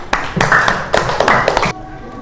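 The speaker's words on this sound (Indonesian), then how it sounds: "Oke, terima kasih untuk Kuni, beri tepuk tangannya." Students in a classroom clap briefly after a classmate's presentation, a short burst of hand claps lasting under two seconds before it stops.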